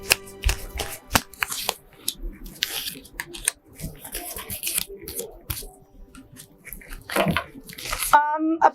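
Tarot cards are shuffled and drawn in quick bursts of close papery riffling and slapping, with soft flicks between them and a brief musical chime at the end.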